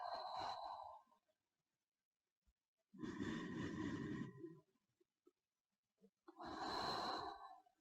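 Deep exhalations during a balance exercise class, three long breathy bursts separated by silence, close and clear with no talking.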